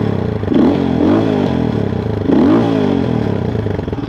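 A Lifan X-Plore 200 motorcycle engine with no exhaust fitted runs steadily at idle with a rough, sputtering rumble and a couple of brief throttle swells.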